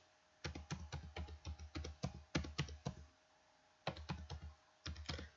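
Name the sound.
typing on a computer keyboard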